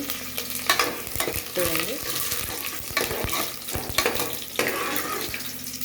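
Curry leaves fry in hot oil in a pan while a spoon stirs them, giving a steady crackling sizzle broken by scraping, clinking strokes against the pan. A voice briefly speaks.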